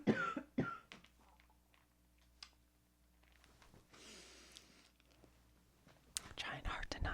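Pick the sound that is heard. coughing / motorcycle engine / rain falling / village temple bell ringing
coughing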